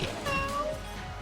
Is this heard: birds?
no